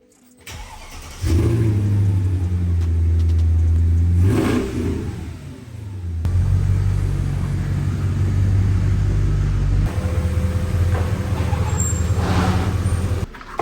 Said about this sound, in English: And while we're at it, let's get a little cold start.